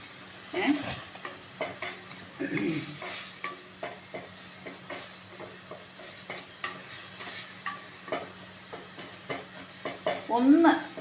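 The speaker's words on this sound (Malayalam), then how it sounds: "ഇതിനെ ഒന്ന് നന്നായി ഒന്നിങ്ങനെ ഫ്രൈ ചെയ്യണം" Rice for a green rice dish fries in a pan while being stirred, with repeated scraping strokes over a low sizzle and a brief voice near the end.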